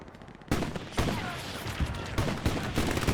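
Submachine gun fire from a PPSh in the multiplayer war game Hell Let Loose, rapid bursts cracking out loud and close, with further shots and battlefield noise continuing throughout.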